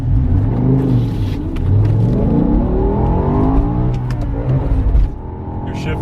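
A manual six-speed BMW M5 E60 with its V10 engine drives and revs, a loud continuous engine note rising and falling in pitch through acceleration with a steady rumble throughout, easing off near the end.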